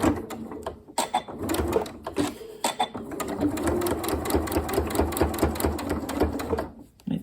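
A sewing machine back stitches a ghost-themed cushion with a fast, steady mechanical whirring and rapid needle clatter, close and clear, running several seconds with a brief stop near the start.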